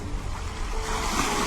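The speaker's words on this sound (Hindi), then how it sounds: "कमरे में कोई आवाज नहीं थी सिवाय शांत समंदर की लहरों के" Calm sea waves wash and hiss softly at a moderate distance, a gentle continuous surge with no voices.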